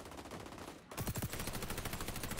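Sniper rifle gunfire in the online shooter XDefiant: a dense run of loud, sharp shots and impacts, with a brief gap near the start before the firing resumes close and steady.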